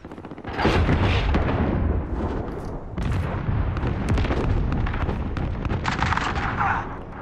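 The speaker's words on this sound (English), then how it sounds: "Enemy cruise missile incoming." A cruise missile strike in Call of Duty: Modern Warfare brings a continuous roar of heavy booms and rumbling blasts, loud and dense throughout, with a hissing burst near the end.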